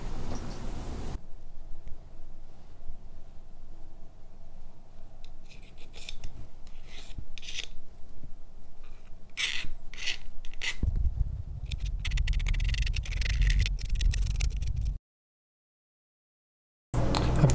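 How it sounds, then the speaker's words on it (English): Titanium RC drift parts being rubbed down by hand with an 800 grit sponge pad, producing quiet rasping scrapes in short irregular strokes, with a louder rougher stretch near the end and a brief silent gap. "I'll go ahead and just rub them down with like an 800 grit sponge pad"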